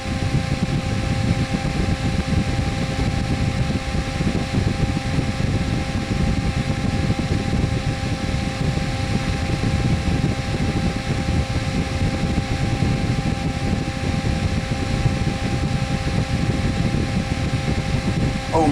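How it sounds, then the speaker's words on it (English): Funlab 01 rechargeable USB toothbrush fan running on high speed: a loud, steady, unbroken whir with a faint tonal hum, close by and alone for the whole stretch. "This fan does get quite loud on the high speed, and it blows a ton of air."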